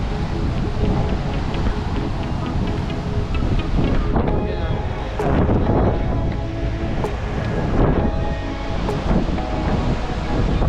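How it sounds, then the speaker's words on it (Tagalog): Strong rushing water roars continuously with heavy, broadband wash and wind buffeting the microphone, swelling in a few surges and crashes. "Lakas ng tubig."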